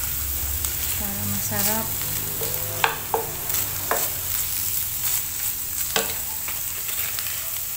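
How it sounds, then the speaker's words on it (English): Butter melting in a hot frying pan for a broccoli and chicken strip stir-fry gives a steady close sizzle, broken by light scrapes and clicks of stirring, while a voice speaks briefly over it. "Nilalahot ko na yung butter."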